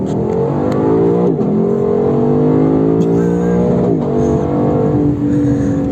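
A Lexus LC 500 V8 accelerates hard with a loud, close engine roar that climbs in pitch and drops briefly at several quick gear changes.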